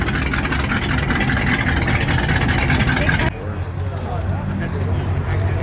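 A car with side pipes rumbles loudly at a car meet, with a deep, truck-like idle that stays steady, then drops to a lower throb partway through.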